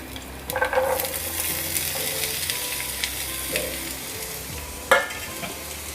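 Bell pepper, carrot and corn stir-fry in a pan over medium heat, a soft continuous sizzle broken by scraping stirs and a sharper clatter near the end.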